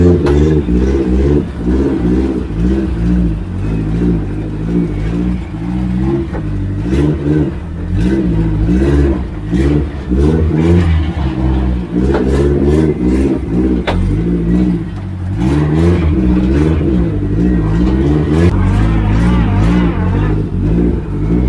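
A Lada car engine revs while driving in a backyard, a steady, loud, close engine drone rising and falling with repeated revs throughout.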